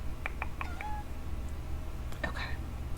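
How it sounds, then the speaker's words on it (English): A pet cat gives a few short, soft meows in quick succession indoors, then a brief louder chirpy call, faint against a low room hum. "Do you guys hear my cat?"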